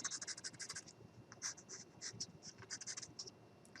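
Very quiet, close scratchy strokes of a marker or pencil drawing a stick outline on a ceramic welcome sign, short bursts in an uneven rhythm with no talking.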